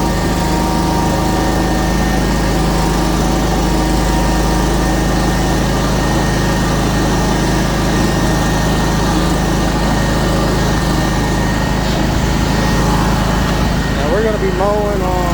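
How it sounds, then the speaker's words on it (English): A Scag 52-inch zero-turn mower with a 37hp Vanguard engine runs loud and steady while cutting ryegrass, its constant droning whine close by with no break in the noise. "I want to do a real quick video of some mowing. I'm going to cut some ryegrass up here"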